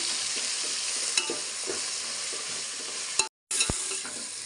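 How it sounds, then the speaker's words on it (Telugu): Ginger paste and spices fry in a pan with a steady, loud sizzle while a utensil stirs and scrapes through them, giving a few sharp clinks and a brief dropout near the end. "అల్లం పేస్ట్ అన్నీ ఎర్రగా వేగిపోయినాయండి బాగా నీట్గా"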